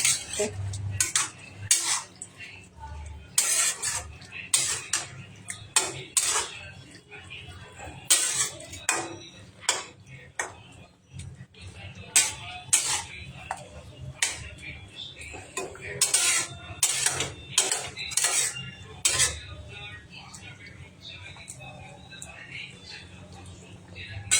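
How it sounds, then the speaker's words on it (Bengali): Meat being stirred in a pan with a metal spoon, with irregular scraping and clinking strokes over a low sizzle and soft talk in between. "এরপরে মাংসটাকে নেড়ে দেবো এরকম।"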